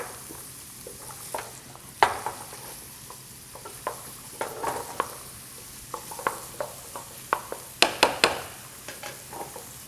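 Onions and fennel frying in a pan for risotto, a soft steady sizzle broken by scattered clicks and scrapes of stirring, close and fairly quiet.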